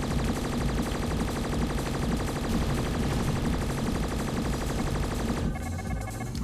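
Rapid bursts of gunfire fill a Sony PSP shooter video game, a dense loud rattle of shots over game music that thins out near the end.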